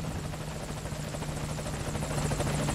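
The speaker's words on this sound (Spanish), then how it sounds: "El helicóptero ya está listo para la extracción." In Metal Gear Solid V Ground Zeroes, an extraction helicopter's rotor beats in a loud, continuous thudding pulse with a droning hum underneath, and nobody speaks over it.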